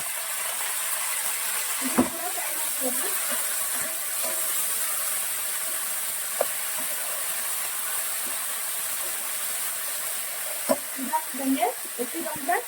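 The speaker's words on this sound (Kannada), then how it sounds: "ಸ್ಪೈಸ್ ಎಲ್ಲ ಫ್ರೈ ಆಗಿದೆ" Whole spices for chicken biryani frying in a pan, a continuous close sizzle broken by a few sharp scraping stirs and clatters, with occasional talk in the background.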